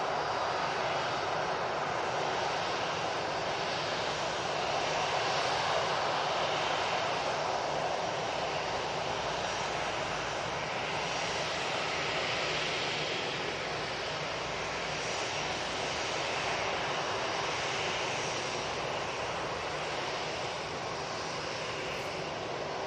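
An Emirates Airbus A380 takes off at Manchester Airport, its engines giving a loud, sustained roar that holds steady and fills the air for the whole stretch, with no talk.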